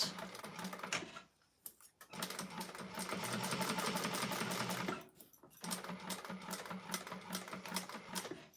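A sewing machine stitches a quarter-inch seam on a clutch wallet in rapid bursts of needle chatter, two short pauses breaking the run before it starts again, close and fairly quiet.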